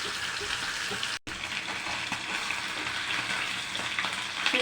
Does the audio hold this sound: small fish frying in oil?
yes